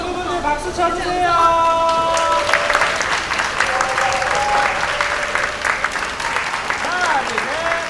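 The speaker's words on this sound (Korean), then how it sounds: "자, 친구분들 박수 쳐주세요." Wedding guests clap and cheer together after the bride's bouquet toss. The applause is steady and fairly loud, and a host's voice and a brief tonal sound carry over its opening seconds.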